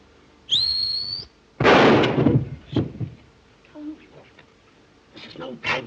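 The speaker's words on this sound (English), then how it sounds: "This is no time to whistle." One person gives a brief, bright whistle with a rising note in a 1930 comedy film scene, followed by loud bangs, thumps and voices.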